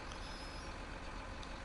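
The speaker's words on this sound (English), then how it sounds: "let me put the truck under it really quick" A truck in Farming Simulator 19, in a forestry game on the Blue Mountain Valley map, being eased into position: a steady, dense engine rumble with a hissing wash over it and no voices.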